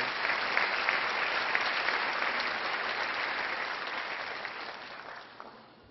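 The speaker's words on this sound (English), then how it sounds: "Another round of applause for all of you." An audience at a university commencement ceremony applauds the graduates and their families, a loud continuous roar of clapping that swells and then tapers off near the end.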